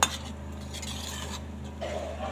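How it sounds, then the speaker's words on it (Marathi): A utensil scrapes and stirs masala rice inside a pot, soft steady clinks and scratches over a low background hum, no voices. "छान मिक्स करून घ्यायचं"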